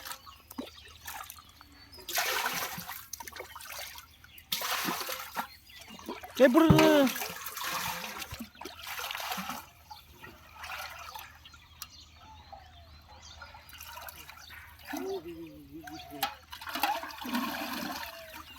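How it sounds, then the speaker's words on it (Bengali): Fish feed, with egg yolk and mustard oil, is worked into water by hand at a village pond, giving intermittent sloshing, splashing bursts close by while someone talks over it. "এটা এখন ভালোভাবে জল দিয়ে আমরা ঘুলে নেবো আগে জিনিসটা।"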